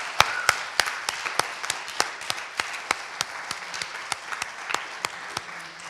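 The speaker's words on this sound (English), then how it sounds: "one last round of applause for FR" An audience at a livestreamed poetry event at the National Centre for Early Music gives a poet a closing round of applause: steady, full clapping with crisp individual claps standing out in a regular rhythm throughout.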